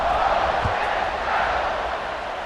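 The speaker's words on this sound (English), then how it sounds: "this crowd is buzzing after that last score" A stadium crowd in EA Sports College Football 26 gives a broad, steady roar of noise just after a score, holding loud and even for a couple of seconds.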